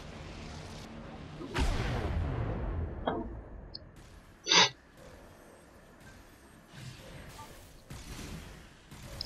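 Artillery fire in the strategy game Shrouds: a quiet battle bed with a few separate booming shots and whooshes, including one sharp loud blast midway, with no talking.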